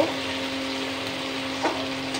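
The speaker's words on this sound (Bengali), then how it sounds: "টমেটোটা একটু ভাজা ভাজা হয়ে এসছে" Tomato softening as it fries in a pan for a homemade Bengali midday curry, giving a steady close sizzle with a faint stirring scrape midway and no talk.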